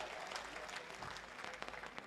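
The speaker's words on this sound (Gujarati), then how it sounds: "તેમના માટે જોરદાર તાળીઓ પાડો" A crowd at a community gathering in Gujarat claps in a faint, continuous patter of many hands, heard from some distance, with a few sharper claps standing out near the end.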